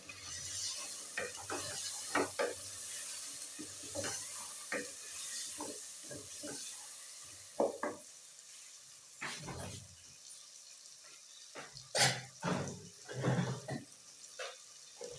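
Potato pieces go into a frying pan of hot, sizzling masala, with a steady sizzle under repeated stirring scrapes and clinks of a spoon against the pan, close and moderately loud.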